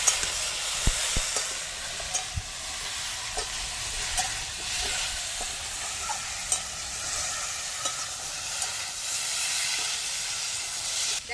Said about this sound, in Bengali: মশলাটা একটু কষাবো